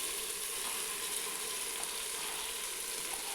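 Cauliflower fries in a pan with spices and dal for khichuri, giving a continuous, even sizzle that stays steady throughout with no talk.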